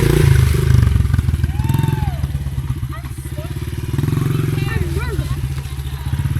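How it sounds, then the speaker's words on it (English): A dirt bike engine revs and drones steadily as the bike spins donuts on dirt nearby, rising and falling in pitch, while a person shouts instructions over it. "Now, give it a lot of gas and spin around."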